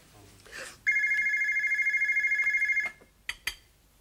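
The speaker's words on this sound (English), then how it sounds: "Are you going to answer that phone or what?" A telephone in a Glasgow home rings with one long, steady electronic trill lasting about two seconds, loud and close, followed by a couple of brief knocks.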